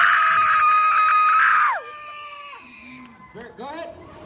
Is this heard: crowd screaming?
yes